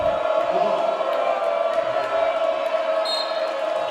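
High school basketball crowd at a Loyola Blakefield versus McDonogh MIAA quarterfinal, a loud sustained roar of voices and yelling filling the gym steadily throughout, with a brief higher squeak near the end.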